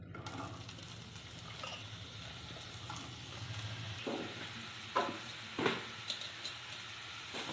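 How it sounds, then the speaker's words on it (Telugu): Mushrooms frying in a couple of spoons of oil in a pan on a stovetop, giving a steady close sizzle with occasional brief pops and stirring scrapes, no talk. "ఒక 2 స్పూన్లు ఆయిల్ వేసి ఇందులో 2 నిమిషాలు ఫ్రై చేసుకోవాలి."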